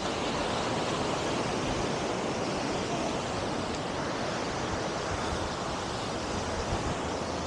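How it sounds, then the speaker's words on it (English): Steady wind blowing on a beach at Oak Island, North Carolina, a loud continuous broadband rush with faint surf mixed in, no voices. "that wind feels good"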